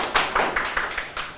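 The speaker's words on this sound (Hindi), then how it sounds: "तालियां बजा रहे हैं।" A small group claps in a classroom setting, a run of sharp, uneven slaps repeating at a quick irregular pace, close and moderately loud, with no talking.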